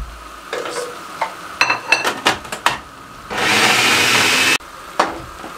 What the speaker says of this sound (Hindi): ये चॉपर में डाल के इनको चॉप कर देते हैं